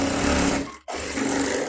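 A sewing machine stitches a four-panel salwar with a steady, fast mechanical whir, breaking off briefly in the middle before running on again at a close, even pace.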